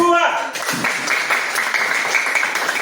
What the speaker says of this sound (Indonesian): berikan tepuk tangan untuk kelompok 2.